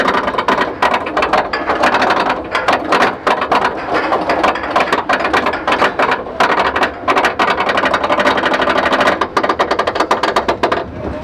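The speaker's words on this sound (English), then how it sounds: "they need to replace that chain motor" The lift hill chain on the Loch Ness Monster roller coaster at Busch Gardens Williamsburg clatters loudly and close in a rapid, steady ratcheting rhythm, its pace sagging and pulsing slightly as the worn chain motor strains.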